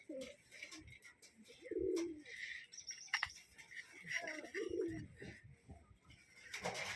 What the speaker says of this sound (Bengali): অনেক কষ্ট পাচ্ছে কবুতরটা অবশ্য।